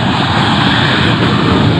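A loud, close two-seat fighter jet engine roars steadily at takeoff, a powerful unbroken rush of sound.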